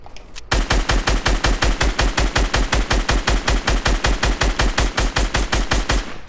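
Video game gunfire rings out in a long, loud, evenly spaced burst of rapid repeating shots that runs almost the whole time without pause.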